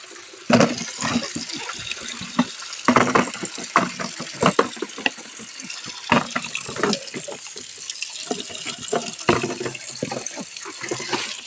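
Spring water pours steadily from a pipe at a drinking and bathing spot in Putiao, Sorsogon, a close, continuous gushing splash with voices talking over it.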